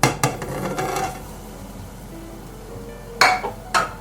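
A lid set onto a hot frying pan holding a Persian herb frittata (kuku sabzi): a sharp metallic clink near the start, then two more bright clanks close together near the end, with quiet sizzling between.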